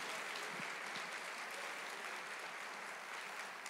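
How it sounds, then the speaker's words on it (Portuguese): Church congregation at a conference applauding in a steady, dense wash of clapping that holds evenly throughout, with no voices over it. "Pode dar uma salva de palmas a Jesus por isso"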